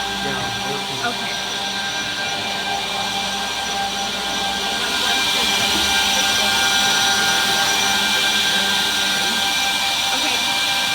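A Brandt KDN 210B edgebander runs end-trim and edge-cleaning passes, giving a loud, steady broadband machine whine with high tonal hum that swells slightly midway, with voices nearby over the noise.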